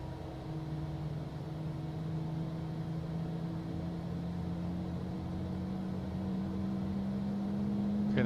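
A CJ4 jet engine spools up in Microsoft Flight Simulator 2024, a steady whirring hum with a slowly rising tone over several seconds, even and continuous, with no talk.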